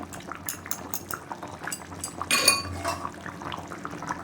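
A lid clattering back onto a pot of chicken kosha as it cooks, a metallic clank ringing over a steady bubbling sizzle, with lighter utensil taps before it.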